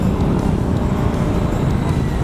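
A truck rumbles past close by on a road, a loud steady low engine and tyre roar filling the short stretch with no other sounds standing out.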